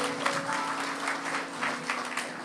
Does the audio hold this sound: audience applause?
yes